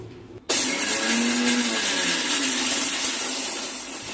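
A mixer grinder grinds roasted ingredients for potato chutney, starting abruptly and then running as a loud, steady whir that holds for several seconds before easing slightly. No voices.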